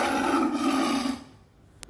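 A lion gives a deep, rough roar that rumbles loudly for about a second before trailing off into quiet, followed by a brief click.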